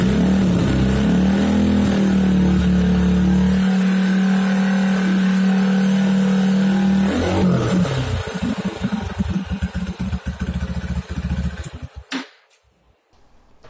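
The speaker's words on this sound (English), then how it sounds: "It's set up for this single cylinder motor, four-stroke motor." A single-cylinder four-stroke motor idles under 2,000 RPM with a steady loud hum, then turns uneven and chugging before cutting out near the end, leaving near silence.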